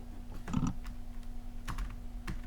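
Quiet computer keyboard typing, a handful of soft, irregular key clicks spread over a couple of seconds against a low steady hum.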